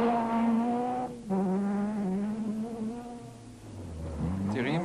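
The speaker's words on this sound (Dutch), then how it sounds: "Thierry met zijn snelle Opel Kadett GSI, de 16 klepper" An Opel Kadett GSI 16-valve two-wheel-drive rally car from a 1991 Haspengouw rally on mixed gravel and asphalt roads, engine revving hard through gear changes, then dropping and rising again as it passes, with a commentator talking over it.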